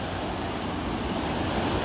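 Rushing river rapids among giant rocks below a one-person footbridge, a steady, dense roar of churning water heard up close and continuous throughout, with no voices.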